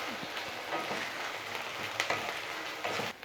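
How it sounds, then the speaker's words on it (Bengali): Chili paste frying with ginger and garlic in a pan for chicken murgh masala, a steady close sizzle and crackle with a few sharper spits and pops throughout. "ভালো করে ভেজে নেব।"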